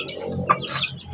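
A brief, close call from a Siamo rooster in a breeding pen: a single short, clear vocal burst against a low background hum, with no talk.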